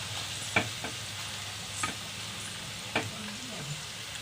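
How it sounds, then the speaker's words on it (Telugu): Onion pakoda frying in hot oil, street-style, a steady soft sizzle throughout with a few sharp clinks and scrapes as the fritters are turned and stirred in the pan. "పకోడీ కొద్దిగా వేగిన తర్వాత ఈ విధంగా కొంచెంగా పకోడీని కొద్ది కొద్దిగా అటు ఇటు తిరగేసుకోండి"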